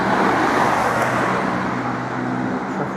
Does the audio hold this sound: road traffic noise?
yes